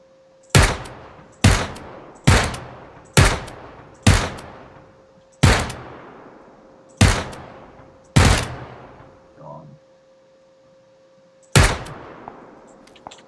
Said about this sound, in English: there's some people shooting way over there somewhere